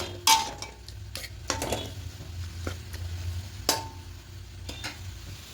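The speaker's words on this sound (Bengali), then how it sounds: "এবারে এখানে চিকেনটা দিয়ে দেব কোনো তেল দেব না তেল ছাড়া চিকেনটা দেবো" Chicken stirred in a dry pan without oil, with a low sizzle under a few sharp clinks and scrapes of a utensil against the pan, close and sparse.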